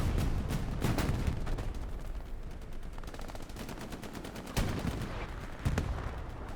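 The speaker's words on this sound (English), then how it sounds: "all the explosions landing down" Video game battle on Utah Beach with dense, continuous gunfire and machine-gun bursts, punctuated by heavy explosions landing at intervals, loud and close throughout with no talking.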